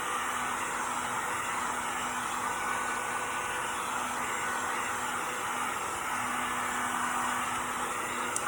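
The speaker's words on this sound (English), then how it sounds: "if you use a heat gun to dry your paint, make sure that you're constantly moving it" A heat gun drying paint on a faux galvanized metal frame blows with a steady, close, unbroken whooshing hiss and a faint high whine throughout.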